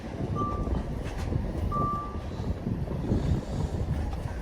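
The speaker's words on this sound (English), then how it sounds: "Sure, that wind. That's Galway wind." Gusty wind in Galway, Ireland, rushing as a steady, fairly loud broadband roar throughout, with two brief electronic beeps sounding faintly in the background.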